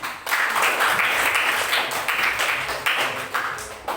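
Classroom applause from students in a biology lesson, a dense, steady patter of many hands clapping close by for about four seconds, with a few louder claps standing out.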